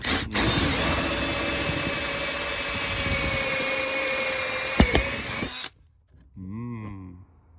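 A hole saw cutting through metal for a cheap TDI modification, a loud steady high-pitched whine that runs continuously for over five seconds and then stops abruptly, followed by a brief faint voice.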